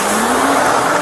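A truck engine roars loudly and steadily at close range for about a second while the truck drives over its own tires and flattens them.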